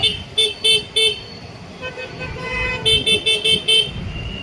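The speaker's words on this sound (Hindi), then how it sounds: "ये हॉर्न हमारा बहुत मर चुका है, इसे हमें जिंदा करना है एक और लगा के।" A car horn beeps in quick repeated toots, a group of four, a pause over low road noise, then another rapid run of five.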